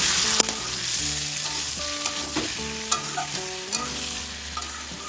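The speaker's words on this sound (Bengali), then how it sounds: "আবার একটু নেড়ে চেড়ে দেব।" Brinjal and egg frying in a pan, stirred with a utensil: steady close sizzle throughout, broken by repeated scraping and clinking strokes of stirring, no voices.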